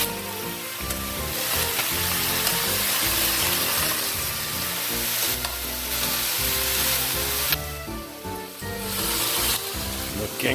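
German beef rouladen frying and browning in a hot pan, a loud, steady sizzle with bursts of crackle and some clattering of utensils near the microphone.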